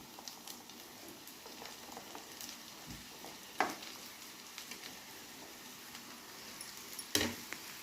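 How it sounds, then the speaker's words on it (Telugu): Ridge gourd pieces fry in a pan with garlic paste and turmeric, a faint steady sizzle with scattered pops and a couple of sharper clatters from stirring. "ఇప్పుడు ఇందులోకి కట్ చేసి పెట్టుకున్న బీరకాయ ముక్కలు వేసుకోవాలి."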